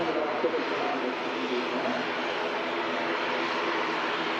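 A Loganair aircraft at Manchester Airport gives a steady, loud broadband roar of engine noise that holds constant throughout without letting up.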